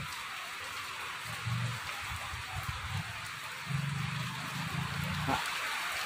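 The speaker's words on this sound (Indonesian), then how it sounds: "kondisi lapangan sekarang lagi hujan ini" Steady rain pours down at an outdoor night market fairground, a dense even hiss that holds throughout, with faint low murmurs and bumps beneath it.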